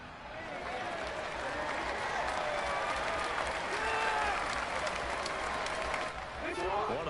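A stadium crowd at a football game roars and applauds in a sustained, broad wash of cheering that swells and holds, while a commentator talks over it.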